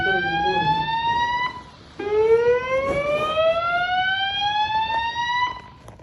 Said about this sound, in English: all of a sudden the alarm just came on at like 3:25 in the morning